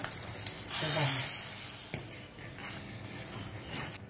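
Hot phodni of spices, asafoetida and curry leaves poured into Gujarati dal, giving a short burst of sizzling hiss that swells and then fades, with a few clinks around it.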